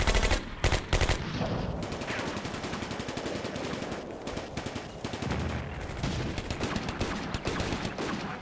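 Gunfire in the WWII strategy game Combat Mission: Afrika Korps at Bir Hakeim, with German guns firing: dense, rapid machine-gun bursts rattling almost continuously, with sharper cracks punching through a steady clatter.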